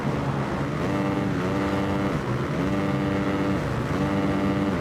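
A Yamaha motocross bike's engine in the Monster Energy Supercross 4 racing game drones at high revs, its pitch rising and dipping with repeated throttle changes, loud and continuous with no voices.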